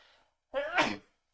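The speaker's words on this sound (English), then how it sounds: "I had to sneeze." A single loud, close sneeze bursts out after a moment of quiet.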